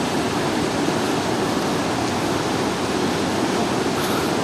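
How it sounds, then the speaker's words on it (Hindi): A waterfall near Jungle Chatti on the mountain trail to Kedarnath roars as a steady, dense broadband rush, close and loud throughout, with no voices over it. "खूबसूरत झरना"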